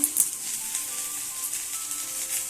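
Spring onion stalks fry in hot oil, a soft, steady sizzle with light crackle holding evenly throughout, fairly quiet and close, with no talking.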